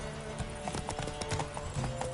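A horse gallops in The Witcher 3, a quick steady clip-clop of hooves close by, with a faint game soundscape underneath.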